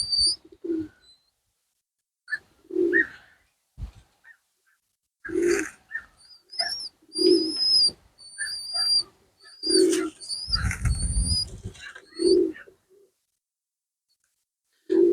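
Young wood pigeon chicks coo at close range. Low, soft coos repeat at irregular intervals, mixed with thin high-pitched chirps and brief rustling noises between quiet gaps.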